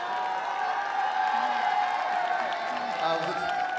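Crowd of Madagascar supporters at the International Catering Cup 2015 cheering and applauding steadily, a loud sustained roar of voices and clapping in a large hall with talk mixed in.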